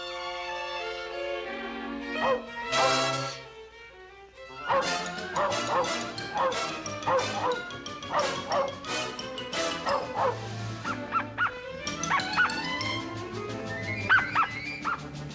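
A voice imitates a dog as a cartoon dogfish, with yips, whimpers and bow-wow barks in quick, uneven bursts mixed with squeals, loud and close.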